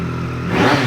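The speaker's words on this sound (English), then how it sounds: "Fast revving, sounds absolutely wicked" A 2017 Triumph Street Triple R ABS motorcycle engine revs up briefly, a short rising mid-pitched roar heard close and loud without any voices.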